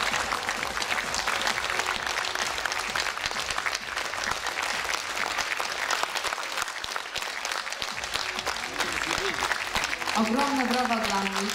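A large audience applauds dancers at a modern dance championship, loud sustained clapping throughout, with a voice starting to speak over it near the end.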